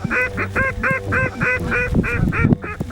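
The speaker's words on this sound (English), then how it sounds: "the problem is there's so many geese coming in that the ducks are flaring" Geese honk over and over in a loud, close chorus during a North Dakota blizzard waterfowl hunt, with ducks mixed in and the calls overlapping in a steady rhythm.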